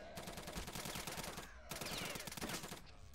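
Rapid gunfire at enemies in the video game Return to Castle Wolfenstein, dense automatic bursts with a short pause midway, moderately loud and steady.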